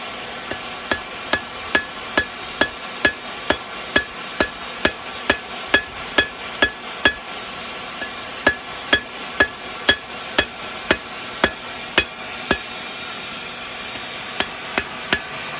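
Steel cable for Damascus is forge welded under a hammer, with a long series of sharp, evenly spaced metallic strikes that ring out close and loud, pausing briefly a couple of times before the rhythm resumes.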